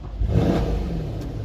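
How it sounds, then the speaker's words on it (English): A Mercedes-AMG C63 S engine revs up once, loud and close, then holds at a steady drone. "I'm gonna give you guys a couple of revs."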